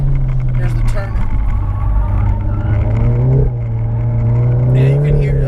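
A 400 HP RevoTechnik Stage 3 tuned VW Mk7 GTI accelerating hard on a track, engine droning loudly with pitch climbing, dipping at a gear change and climbing again, a voice talking over it.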